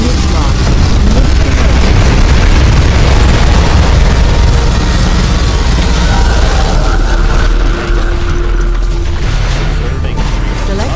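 Dense, continuous explosions and rumbling blasts from a particle cannon attack in the Command & Conquer Generals video game fill the whole stretch, with battle noise throughout and a brief dip near the end.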